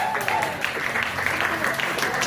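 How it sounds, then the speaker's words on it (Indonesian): A gathered audience claps for the women present, a dense, fairly close patter of applause that continues for a couple of seconds with a voice faintly beneath it. "mari kita tepuk tangan untuk perempuan-perempuan yang hadir di tempat ini"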